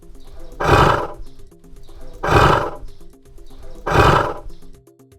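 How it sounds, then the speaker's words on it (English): Three loud, evenly spaced roars from a tiger in a jungle safari setting, each a broad rasping burst separated by quieter gaps, with no talking. "That is a tiger."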